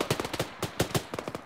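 Rifle fire in the video game Arma 3, a rapid series of sharp, close shots in quick uneven bursts, loud and alone with no talk over them.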